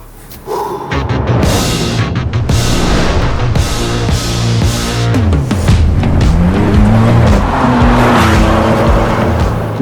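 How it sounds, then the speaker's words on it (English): A D3 Ford Bronco with 300 horsepower accelerates hard with the throttle floored, its engine roaring loud and steady as revs climb and gears shift, with tire noise mixed into the sustained drive. "So now it's literally the first time when I can finally floor the gas pedal and it's supposed to get going."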